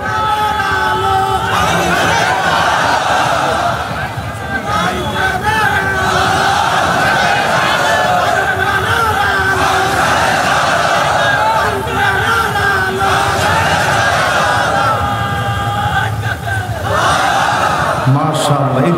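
A large crowd at an Islamic religious gathering in Satkhira roars slogans in unison, answering a leader's calls with loud, sustained chanting and shouts, voices overlapping throughout.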